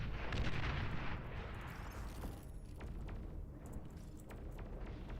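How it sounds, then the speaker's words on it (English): Mortar fire in a real-time strategy game booms as a dense, rumbling barrage, loudest at the start and then holding steady as continuous muffled blasts and crackling bursts with no talk. "Those mortars."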